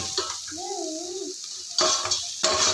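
Ingredients for hakka noodles sautéed in a pan, a steady sizzle with a brief tonal whine early on, then two loud scraping stirs of a spoon against the pan.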